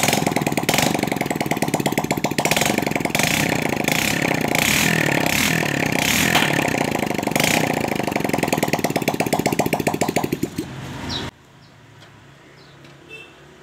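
A Honda Supra motorcycle engine runs with the exhaust removed, a loud, raw, rapidly pulsing rasp with revving swells, then cuts off abruptly near the end, leaving quiet background.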